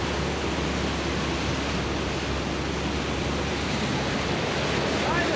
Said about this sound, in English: We found the river!